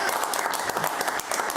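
Brief burst of studio audience applause on a talk show, dense steady clapping with a voice faintly mixed in beneath it.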